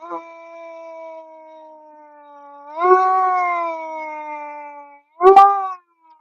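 A voice imitates a siren with long, wavering wails that rise and swell, ending in a short, louder whoop.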